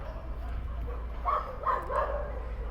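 Small adult dogs at the Soi Dog Foundation shelter in northern Phuket let out a few short yips and barks in quick succession, fairly close, over a low steady background hum.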